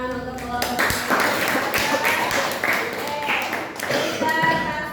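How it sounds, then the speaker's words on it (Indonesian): A classroom of students applauds a student group after a presentation in a science lesson, with scattered claps and taps over several seconds mixed with chatter. "beri tepuk tangan untuk kelompok"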